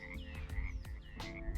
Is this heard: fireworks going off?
no